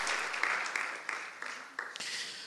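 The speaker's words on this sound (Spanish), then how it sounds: "Dale un aplauso al Señor." A church congregation applauding during a Spanish-language sermon, a fairly soft, steady patter of many hands clapping with faint rhythmic accents.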